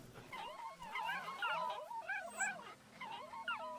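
Dogs in the video game Wasteland 2 whimpering and yipping in a continuous run of high, wavering cries, fairly close and with no talk over them.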